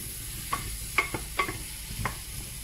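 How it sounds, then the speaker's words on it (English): Chicken curry with lots of potatoes simmers in a pot, a low steady bubbling hiss punctuated by four or five light clinks and taps of a utensil against the pot, no voices. "Then just simmer that for a little bit"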